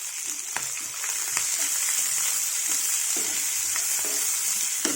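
Sliced onions and split green chillies fry in oil in a pan with a steady, close sizzle and light crackling, broken by a few soft stirring taps.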